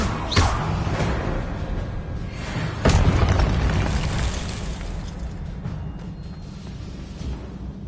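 A Confringo blasting spell goes off in the Hogwarts Legacy video game with a deep booming blast, a second heavy impact follows, and a low rumbling tail fades away.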